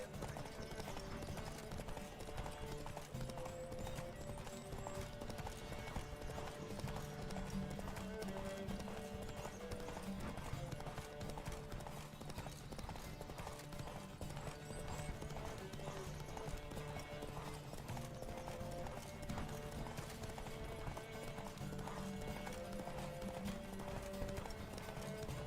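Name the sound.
horse galloping hooves in The Witcher 3 video game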